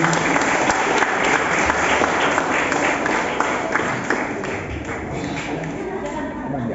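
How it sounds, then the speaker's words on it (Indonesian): Steady, full applause from wedding guests for a bride and groom, dense clapping that fills the whole stretch at an even level and thins slightly toward the end. "Kita beri tepuk tangan sekali lagi"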